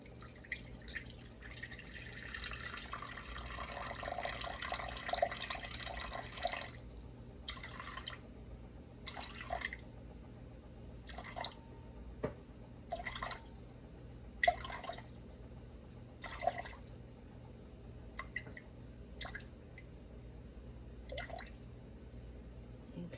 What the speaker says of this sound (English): I'll go ahead and put my water in there. 350 grams.